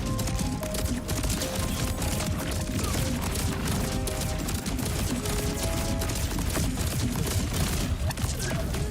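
Rapid, dense bursts of gunfire in Borderlands 4 form a continuous loud barrage, with clanking mechanisms and impacts underneath throughout.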